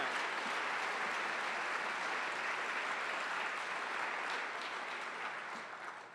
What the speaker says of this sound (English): Let's give the City Club a big round of applause for this program